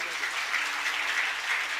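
An audience at a Shrimad Bhagwat Katha religious gathering claps steadily and densely throughout, a continuous crowd applause with no pauses.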